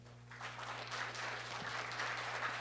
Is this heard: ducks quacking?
no